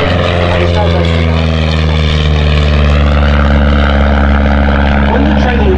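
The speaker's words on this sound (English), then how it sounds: "But it's as agile as any other de Havilland Chipmunk" A de Havilland Chipmunk propeller plane drones loud and close at an air show at Old Warden, a steady buzzing engine note with a spoken commentary voice running over it.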